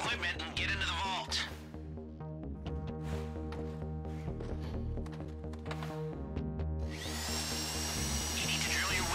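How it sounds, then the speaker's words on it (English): Drilling through a vault door lock during a heist in Grand Theft Auto 5 Online: a steady, loud game drill grinding with tonal whine and layered game music, a bright metallic screech rising near the end. "You need to drill your way through multiple discs in order to break the vault door lock."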